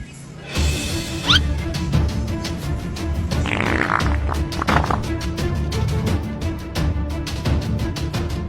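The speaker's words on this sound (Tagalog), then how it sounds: "Utot na pinasok sa rep, tumigas." A fart blurts out near the start, followed by a long stretch of rhythmic clopping taps, a mix of slime-style sound effects with no talk.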